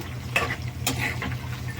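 Whole spices for a tamarind pulihora tempering crackle in hot oil, a constant nearby sizzle broken by a few sharp spoon scrapes and pops.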